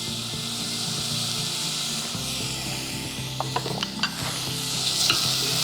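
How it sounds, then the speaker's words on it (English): Turmeric powder is stirred through a sizzling pan of frying food for a Mi Quang dish, with a steady close hiss throughout and the scrape of a utensil rising near the end. "And keep stirring."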